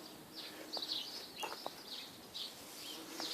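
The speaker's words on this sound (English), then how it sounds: "you can hear the bees actually" Bees buzz around a rosemary bush in a garden, a faint intermittent drone that swells and fades as insects pass close, with a few soft bird chirps in the background.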